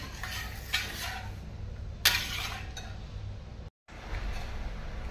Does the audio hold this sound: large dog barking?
no